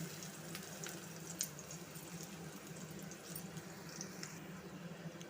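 Sliced onions and green chillies fry in hot oil for a Telugu-style tempering before okra goes in, giving a steady close sizzle with faint crackles, alone and without talk.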